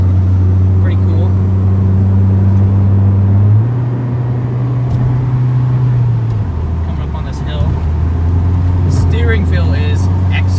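A 1997 Honda Civic Del Sol Si engine with a stock-style replacement muffler drones steadily while driving, its low hum stepping up in pitch as it shifts, with road rumble throughout and occasional faint interior noises.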